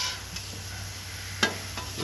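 Butter sizzling on a griddle outdoors at night, a steady soft hiss with one brief metallic clink partway through.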